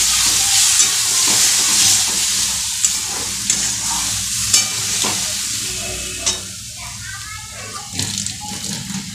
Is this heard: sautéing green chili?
yes